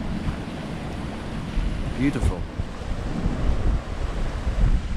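Gusty wind buffets the microphone over steady wave and surf wash during an upwind sail on a sailboat in blue Bahamas water, a continuous close roar with one brief spoken word partway through.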